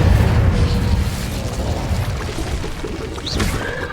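Incendio fire spell blast in Hogwarts Legacy, a loud, close roaring burst of flame with rumbling low booms and crackle that sustains and swells again near the end, with no talk.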